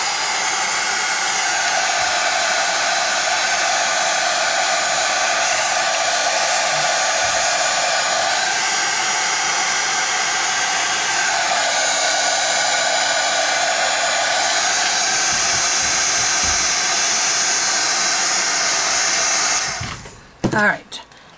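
A heat gun melting embossing powder on a mixed media tile blows a loud, steady hot-air roar for about twenty seconds, shifting slightly in pitch as it moves, then cuts off abruptly with a few clicks and handling noises.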